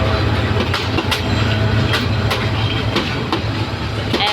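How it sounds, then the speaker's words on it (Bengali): A passenger train rumbles at Kuliarchar railway station, with steady low rolling noise and repeated wheel clacks close by. "এই যে আমাদের কুলিয়ারচড়া স্টেশন, এখানে আইসা ট্রেন গাড়ি থামছে"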